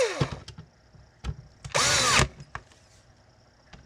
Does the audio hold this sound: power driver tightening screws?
yes